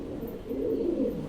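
Pet pigeons kept at a home in a loft that is about to be rebuilt, giving a low, steady cooing that swells and rolls on for a moment, moderately close with no talk.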